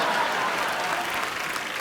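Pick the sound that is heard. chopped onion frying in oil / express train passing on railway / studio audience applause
studio audience applause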